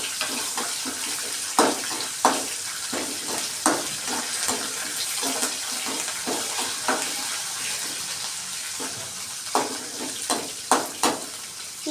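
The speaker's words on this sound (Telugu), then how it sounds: "అలాగే ఎండుమిర్చి, పచ్చిమిర్చి, ఆవాలు, జీలకర్ర కూడా వేసేసుకొని" Dry red chilies, green chilies, mustard seeds and cumin sizzle in hot oil for lemon rice tempering, a steady loud hiss punctuated by sharp crackles and pops, with no talking.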